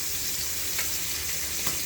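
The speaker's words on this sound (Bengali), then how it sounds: "তো মাছটা ভাজার জন্য অপেক্ষা করব।" Hilsa fish sizzles in hot oil in a pan, a steady crackling fry with a couple of sharper spits and pops, close and alone without talk.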